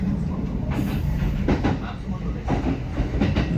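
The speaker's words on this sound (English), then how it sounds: "A bit relaxing, like the clickety-clack of the wheels" Wheels of a local train on a single track through a Japanese industrial town, giving a steady rumble with repeated clickety-clack beats, loud and close from inside the carriage.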